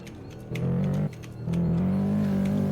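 A tuned Audi S3 accelerating hard on a race track, its engine droning loud and close, surging twice as the throttle is pressed harder, with no talking.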